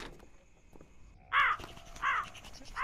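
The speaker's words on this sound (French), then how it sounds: "Maudit corbeau, ils ont ruiné ma plantation." Crows caw twice in a video game, two loud harsh calls close by over a quiet ambient hum with a faint tone.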